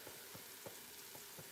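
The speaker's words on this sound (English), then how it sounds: "love the sound of sizzle, because then comes the aroma" Food sizzles in a pan on a home kitchen stove, a steady close hiss broken by soft rhythmic stirring scrapes about every third of a second.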